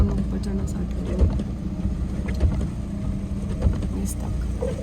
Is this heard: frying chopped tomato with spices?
no